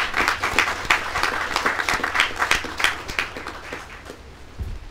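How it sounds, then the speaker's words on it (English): Audience applause at a 2012 campus groundbreaking ceremony: a steady crowd clapping for about five seconds, dense and even, fading slightly toward the end. "So give yourselves a round of applause."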